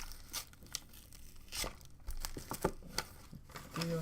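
A knife slices through cardboard and plastic packaging during an unboxing, giving quiet, close tearing and crinkling scrapes in irregular short strokes, with no talk.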